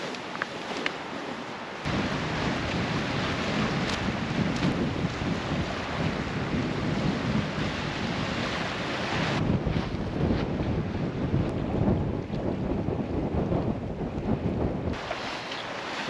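Strong wind roars across an island campsite at night, a loud continuous buffeting rumble that batters the microphone and surges in gusts, with no voices.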